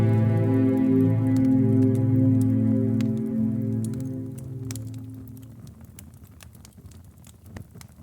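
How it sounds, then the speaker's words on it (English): Steady rain patters and crackles beneath a soft, sustained musical drone that fades away, leaving scattered drops and clicks on their own. "The rain has been falling for hours."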